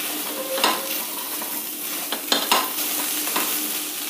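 Onion and garlic frying in oil in a pan while being stirred, a steady close sizzle broken by a few louder scraping stirs, with no voices.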